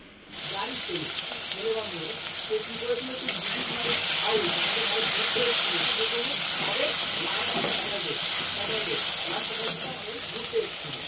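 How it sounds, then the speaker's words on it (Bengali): Diced potatoes fry in a pan with a loud, steady sizzling hiss that starts abruptly and holds throughout, while faint indistinct voices murmur in the background. "চলো আলুগুলোকে ভালো করে ভেজে নিই"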